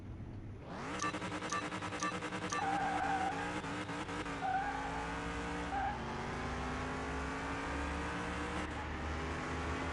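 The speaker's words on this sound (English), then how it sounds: "bounced off the rev limiter" A race car engine in the Car Mechanic Simulator 2021 video game revs up hard under acceleration with a loud, rising whine. It bounces briefly off the rev limiter midway, then keeps droning at high pitch.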